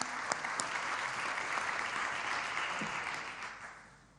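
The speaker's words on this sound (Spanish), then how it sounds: "Se merecen un aplauso." An audience at a government ministry event applauds warmly in a sustained burst of clapping that gradually fades toward the end.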